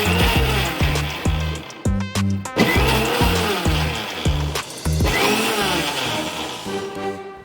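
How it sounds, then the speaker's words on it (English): Mixer grinder churning curd for cucumber raita, a loud steady motor whir broken by several short pauses and restarts as the jar is pulsed. "we will churn it in the mixer grinder"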